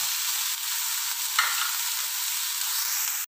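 Green chili, ginger and curry leaves frying in a pan with salt and turmeric give a steady, close sizzle with a faint stir partway through, no voices over it.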